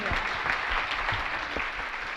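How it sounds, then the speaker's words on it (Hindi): An audience at a Jain religious discourse claps steadily, a moderate, even patter of many hands with a few sharper claps standing out. "तालियां भी ऐसे बजा रहे जैसे कि खैनी पीट रहा"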